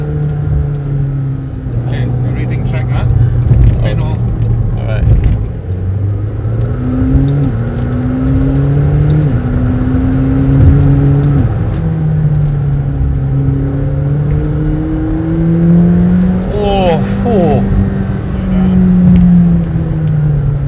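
A 2021 McLaren 720S twin-turbo engine accelerates hard, engine pitch climbing through repeated rising sweeps as gears shift, loud from inside the car, with people talking over it.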